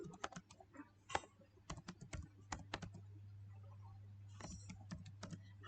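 Someone types on a computer keyboard while writing a recursive function in Python: irregular clusters of close, crisp key clicks with brief pauses, over a steady low electrical hum, with no talk.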